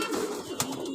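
A racing pigeon, a club-registered bird called Tiger wearing a race leg ring, gives a soft low coo close by, with a brief brighter note in the middle of the short stretch.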